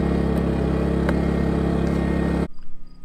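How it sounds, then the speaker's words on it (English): Small suitcase generator running outside gives a loud, steady engine drone with a buzzing hum that cuts out abruptly near the end. "you can hear the little generator outside running"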